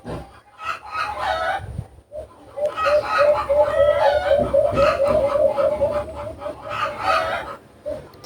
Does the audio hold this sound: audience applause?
no